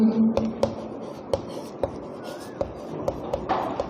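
Pen writing on paper during a Class 10 maths lesson on heights and distances, giving soft scratchy strokes with a series of small taps as letters are formed, close and quiet with no talk.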